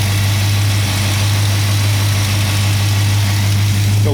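A 1967 Plymouth Satellite idling after a cold start with a leaking radiator, a loud steady low engine hum with a strong constant drone and no talk.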